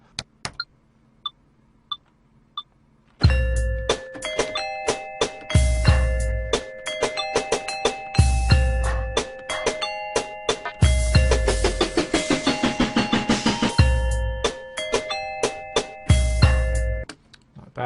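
Layered electronic bell tones from music creation software play in repeating rhythmic patterns, sustained tones stacked with bright percussive hits and deep thumps after sparse opening clicks, loud and close with no talking.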